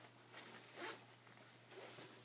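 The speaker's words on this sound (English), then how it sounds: "So we're going to zip that up and close it up." A zipper pocket on the flap of a backpack being zipped shut, a few faint, quick rasping pulls over a low steady hum.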